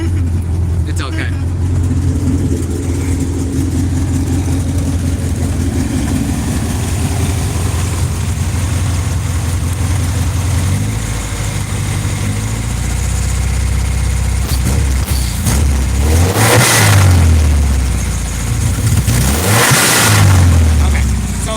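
A turbo B20 engine swapped into a Honda EG idles at a deep, steady rumble for a long stretch, then revs twice in quick rising and falling bursts near the end, loud and close.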